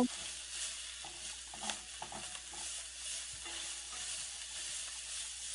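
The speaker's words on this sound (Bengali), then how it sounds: "এবার আলু কটাতে ঢেলে দেবো।" Potatoes fry in oil in a kadai for a Bengali-style rohu fish curry, giving a steady, soft sizzle with light stirring taps.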